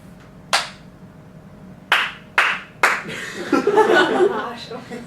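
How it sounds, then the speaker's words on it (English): Single hand claps come one at a time in a classroom while iPad stop-motion clips are being made: four sharp, separate claps spaced about a second apart, then a stretch of chuckling and laughter with talk. "Okay, now someone clap."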